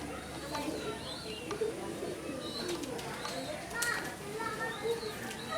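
Pigeons coo softly with scattered chirps and calls at a pigeon keeper's place in Howrah, India, while people talk nearby and children's voices are heard in the background.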